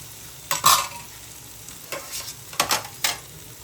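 Dal is poured into masala fried in oil and stirred, bringing a soft sizzle with several sharp spoon scrapes and splashy stirring strokes against the pot.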